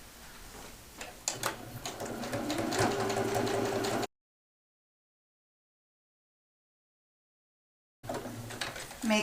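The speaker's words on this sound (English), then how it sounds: "now we need to stitch with the 5/8 of an inch seam allowance from the top to the base on both sides to secure" A sewing machine stitches the side seams of a fabric bag, a steady fast ticking run of stitches heard close, then a break of silence before the stitching resumes.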